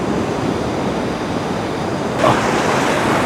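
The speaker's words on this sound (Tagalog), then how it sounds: "lakas ng alon." Strong ocean waves roll and crash on a beach at General Nakar, Quezon Province, forming a loud, continuous roar of surf with wind rushing across the microphone.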